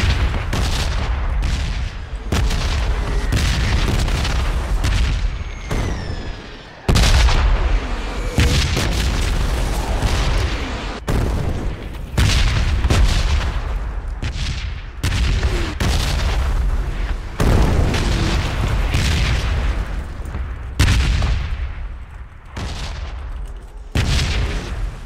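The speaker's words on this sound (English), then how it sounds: "There's those new sounds for explosions." Repeated heavy explosions in PUBG on the Miramar map: loud booms and blasts follow one another every few seconds across the whole stretch, with sharp onsets and rumbling decays, no talk over them.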